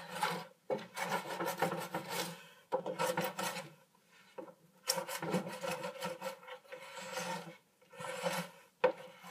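Old wax is scraped off a surfboard in repeated rasping strokes, each a short burst of gritty scratching separated by brief pauses, close and fairly quiet.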